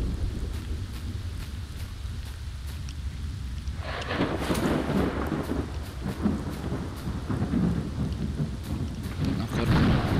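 Thunder rolls through a stormy scene in the video game STALKER Lost Alpha, with steady rain underneath and a heavy, rumbling crack building from about the middle onward and lingering to the end.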